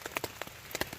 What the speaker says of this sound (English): Hopefully it'll quit raining.